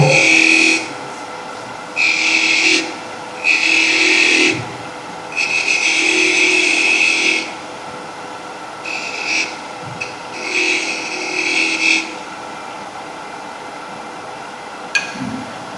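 A power tool cuts wood in a workshop, chopping joints: a series of loud, high buzzing bursts of a few seconds each, separated by short pauses, near and with no voices.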